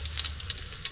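Garlic frying in hot cooking oil, a steady close crackling sizzle with quick spits and pops running throughout, alone without voices.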